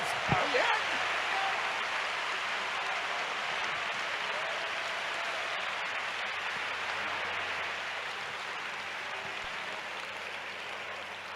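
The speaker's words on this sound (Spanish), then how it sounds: "un aplauso si está contento para el Señor" A church congregation at a national convention breaks into sustained applause, a broad steady wash of clapping that fills the space for several seconds and slowly tapers, with faint voices mixed underneath.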